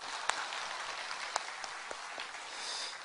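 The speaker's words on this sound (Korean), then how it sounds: "우리 간증 축복의 박수 하겠습니다" Church congregation applauding after a testimony at a Korean Sunday service; a faint, steady wash of clapping heard from a distance, with a few sharper claps standing out, no talk.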